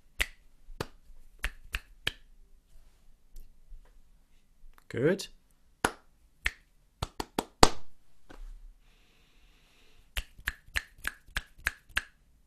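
Sharp finger snaps tap out a rhythmic pattern in quick bursts during a classroom rhythm game, with short pauses between phrases, a brief murmur and a spoken word in the middle.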